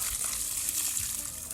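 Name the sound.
water running while watering plants on a farm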